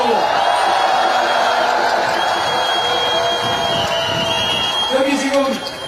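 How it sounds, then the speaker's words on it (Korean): A crowd at an outdoor campaign rally at Seoul Station cheers and applauds for young Korean researchers, a loud continuous roar of voices and clapping that swells near the end, then drops off. "여러분 박수 한번 크게 보내주세요."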